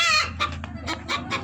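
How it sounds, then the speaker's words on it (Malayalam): Kappiri native chickens cluck on a farm, several short rhythmic clucks in quick succession after a brief squawk, close and clear with no voices. "ഇതിലിപ്പോൾ കാപ്പിരി കോഴികളാണ്."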